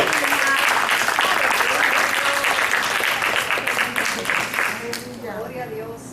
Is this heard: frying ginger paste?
no